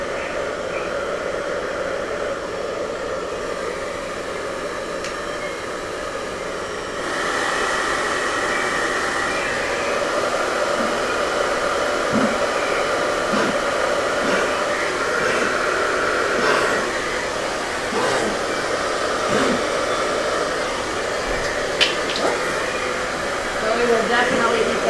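A heat gun or hair dryer blows steadily over an alcohol ink painting, a continuous close whooshing roar that grows slightly louder partway through and keeps running without pause.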